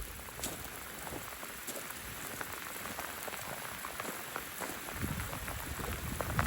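After heavy rain, water pours through farm drainage in a constant hiss of splashing flow, a near, continuous wash that swells slightly toward the end.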